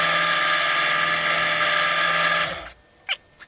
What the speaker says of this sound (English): you want to drill a hole into your golf ball